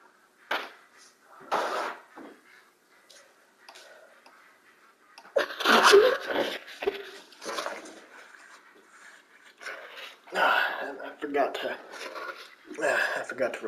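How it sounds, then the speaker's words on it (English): A person sneezes loudly several times in bursts, with heavy breathing and sniffing between them, and brief talking around the sneezes; close and loud. "Oh man, that's a big sneeze right there."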